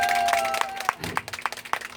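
Audience members at a nanta drumming performance in Gangneung clap in a steady rhythm, with sharp, evenly spaced claps sounding over a sustained musical tone.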